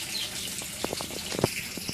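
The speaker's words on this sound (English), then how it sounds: "We've got a little drip, a little bubbler in there to keep it oxygenated for them." Small drips and a bubbler aerating a home fish tank make a run of quick, light plopping bubbles over a soft watery hiss, close and moderately loud, with no voices.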